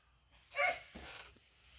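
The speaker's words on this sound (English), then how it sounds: "Dogs started barking." A dog barks once or twice, somewhat distant, heard from a porch during a yard-sale haul; a short, muffled burst and then quiet.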